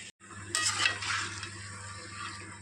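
Okra vadas deep-frying in hot oil bubble and hiss in a rushing burst as a ladle stirs through them, then settle into a softer, continuous sizzle.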